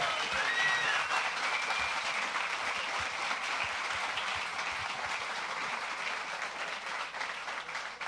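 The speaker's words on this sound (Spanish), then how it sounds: "Un aplauso para este tremendo crack." A masterclass audience in Bogotá applauds Styline, sustained dense clapping from a crowd in a large room holding steady for about eight seconds and fading slightly at the end.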